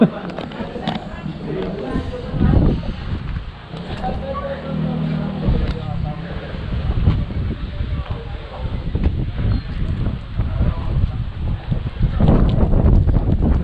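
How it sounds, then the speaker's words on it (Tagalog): Strong wind buffets the microphone in loud, rumbling low gusts on a foggy mountaintop view deck at Mt. Banahaw, Sariaya, Quezon, with a voice talking intermittently through the roar. "Umaaraw na pero malakas ang hangin dito sa itaas."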